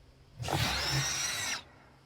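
A Flixlit creature's broadcast call in the Creatures of Sonaria game, a single sustained harsh, bright screeching cry lasting about a second, loud and close, rising and cutting off cleanly.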